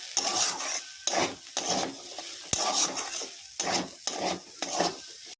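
Vegetable filling for half paratha being stirred in a pan: about seven distinct rhythmic scraping strokes roughly every half second to second, close and fairly loud, with brief pauses between and no talk.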